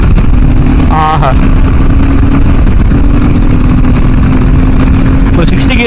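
Royal Enfield Himalayan 450 motorcycle engine running steadily while riding, a loud continuous drone with wind roar throughout, and a brief voice heard near the start.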